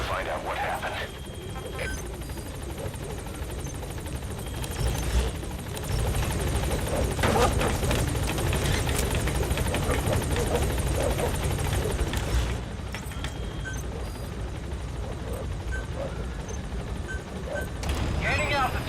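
A helicopter gains altitude in Metal Gear Solid 5, a continuous rotor and engine drone that holds steady throughout and grows somewhat louder midway. Voices speak over it.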